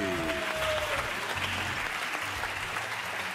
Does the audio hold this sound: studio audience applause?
yes